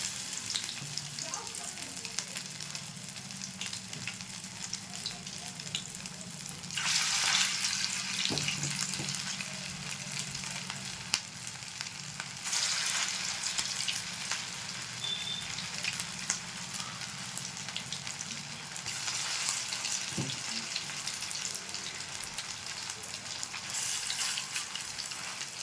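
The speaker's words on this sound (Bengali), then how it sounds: "তেলটা গরম হয়ে গেছে, এবার ভেজে নেব।" Chire (flattened rice) pakoras fry in hot refined oil in a kadai, giving a steady, close sizzle throughout with brief louder bursts of crackling and occasional faint stirring knocks.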